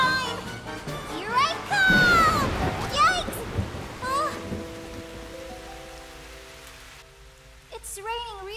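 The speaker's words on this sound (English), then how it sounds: "It's raining really hard." Heavy rain pours steadily in a children's cartoon scene, a dense hiss under excited cartoon voices and music, easing slightly toward the end.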